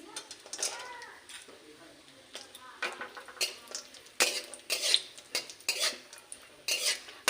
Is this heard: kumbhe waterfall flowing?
no